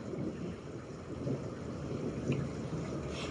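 A thunderstorm rumbles in a steady low roar with rain and wind-like noise throughout, swelling slightly in the middle and near the end, with no voices.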